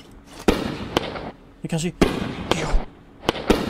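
Italian fireworks cake going off in the game Fireworks Mania, a string of sharp bangs and crackling bursts spaced about half a second apart, with someone talking briefly between them.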